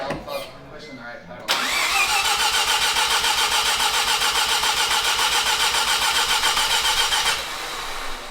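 A Mazda RX7 barn find fires up: after a low cranking hum under speech, the rotary engine bursts into a loud, rough, rapidly pulsing revving roar for several seconds, then drops back toward a quieter idle as people talk.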